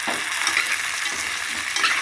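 Drumsticks fry in a pan with onions, green chillies and tomatoes, giving a steady, close, loud sizzle with light stirring scrapes and no voices.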